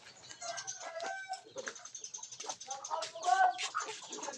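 Backyard chickens clucking and calling in irregular bursts, faint and mid-distance, with someone talking over them at times.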